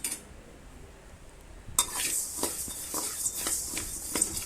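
Rice dry-roasted in a pan over low heat, a spoon scraping and stirring through the grains in quick irregular strokes with faint crackle, close and alone after a brief quiet start.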